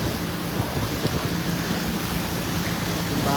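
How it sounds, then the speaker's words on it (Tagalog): Heavy rain pours steadily during a flood in Masantol, Pampanga, at high tide: a dense, continuous broadband roar with no breaks, fairly loud and alone, with no voices. "sobrang lakas po ng ulan dito"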